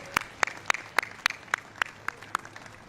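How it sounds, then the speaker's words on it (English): Steady, evenly spaced hand claps outdoors on the White House lawn, about nine sharp slaps at a slow regular pace, fairly close with no crowd noise. "How about a round of applause for our birthday president?"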